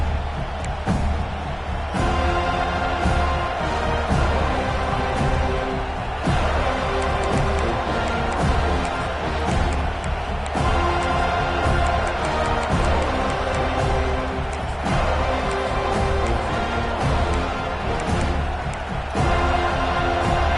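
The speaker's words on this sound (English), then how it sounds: "This crowd ready to make its presence known." Stadium crowd roaring steadily at a college football game around the opening kickoff, a dense, loud wash of cheering that holds through with brief surges, under a faint layer of band or crowd chanting.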